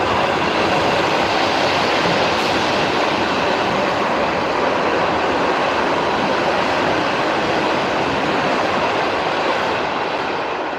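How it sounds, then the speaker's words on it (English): A Moscow D4 train rushes past close by with a loud, steady roar of wheels on rails that fades slightly toward the end. "We're actually gonna get a very nice train, the D4 train"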